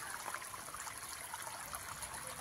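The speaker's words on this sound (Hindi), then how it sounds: "पानी चालू है बोर का" Water pouring steadily from a borewell in a field of chickpea crops, a continuous close splashing rush with no pauses and no voices over it.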